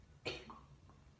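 A person with fever, body aches and a cough gives one short, fairly close cough burst followed by a softer throat sound, standing alone in a quiet indoor room.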